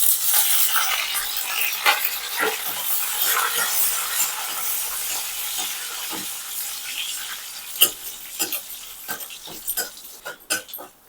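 Garlic, dried red chilli and curry leaves sizzling in hot oil for a dal tempering, a steady bright crackle with scattered sharper pops and spits growing louder toward the end, no voices.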